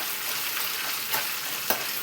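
A tempering of dried chili, garlic and curry leaves sizzles in a pan, a soft continuous crackle with two brief louder pops near the end.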